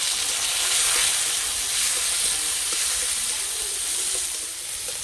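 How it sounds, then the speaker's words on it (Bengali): Chopped tomato hitting hot oil already seasoned with whole cumin, bay leaf, grated ginger and green chilli, giving a loud, steady sizzling hiss that holds evenly throughout with no voices. "এবার দেবো টমেটো কুচি।"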